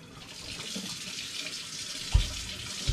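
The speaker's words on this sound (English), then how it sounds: "Just going to give my demijohns a little bit of a rinse in case they've got any residual" Tap water runs over glass demijohns being rinsed, a soft, steady hiss of flowing water with a couple of faint knocks of glass near the end, quiet and without talking.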